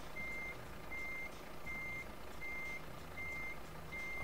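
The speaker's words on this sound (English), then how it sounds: "So a bit of reversing going on now." A reversing truck in Euro Truck Simulator 2 sounds its backup alarm, a steady series of evenly spaced electronic beeps repeating over a constant low engine drone.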